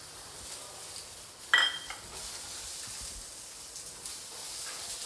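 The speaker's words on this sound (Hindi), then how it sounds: "मैं डाल दूँगी इसमें चॉप किया हुआ एक मीडियम साइज़ का प्याज" Chopped medium-sized onion dropped in with lightly roasted peanuts in a pan for a rava dosa chutney, giving a sudden clatter and burst of sizzle that settles into a steady soft frying hiss.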